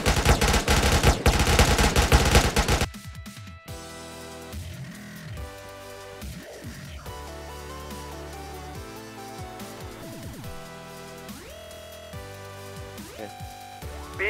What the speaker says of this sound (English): Machine gun on the second floor, middle window.